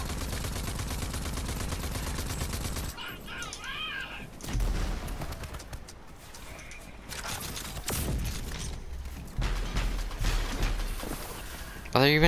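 Rapid gunfire between warring factions in Rage 2, with fast automatic bursts and sharp shots, some sections dense and loud, others sparser, mixed with mechanical clanks and explosions while a player talks over parts of it.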